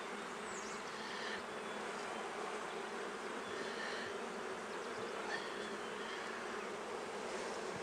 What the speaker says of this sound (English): You can use a bee brush to remove bees, but these bees are very calm.